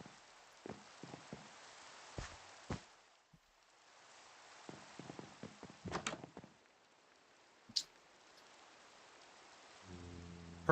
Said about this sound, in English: I can sleep and get rid of all this rain and stuff.